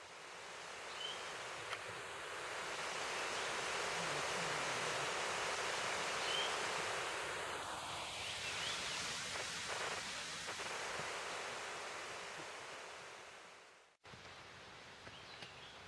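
Soft, steady rush of a stream just below a waterfall on the back of Table Mountain, a faint continuous wash with light rustling and a few small knocks, cutting out abruptly near the end before resuming briefly.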